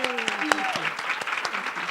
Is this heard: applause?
yes